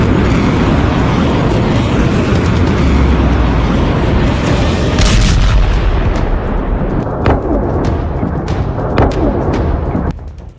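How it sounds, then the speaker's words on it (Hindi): Loud, continuous roar of explosions and fire at an oil depot in Bahrain, with heavy rumbling blasts and sharp cracks throughout, no voices. "देखिए, बहरीन में ईरान ने तेल डिपो को कैसे धमाकों से आग का दरिया बना दिया"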